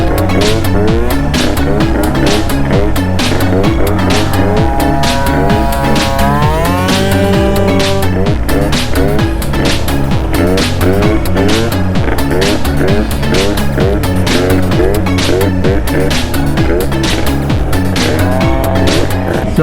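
An Aprilia SR50 scooter with a Malossi RC1 engine accelerates at quarter throttle, a loud buzzing two-stroke whine rising in pitch in repeated swells, close and steady throughout.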